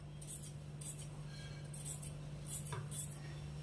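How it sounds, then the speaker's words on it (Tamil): Scissors cutting excess blouse cloth: a series of quiet crisp snips in an irregular rhythm, close but faint over a low steady hum. "உள் பக்கம் திருப்பிட்டு இந்த எக்ஸ்ட்ரா இருக்க கிளாத்தை கட் பண்ணிருங்க."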